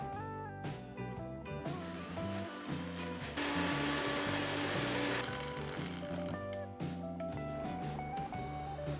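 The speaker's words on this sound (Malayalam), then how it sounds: "അതോടെ ചേർത്തൊന്ന് ബ്ലെൻഡ് ചെയ്തെടുക്കാം" A blender whirs through homemade cream cheese mixed with fresh cream, a brief loud, rushing burst in the middle of the stretch, set against steady background music.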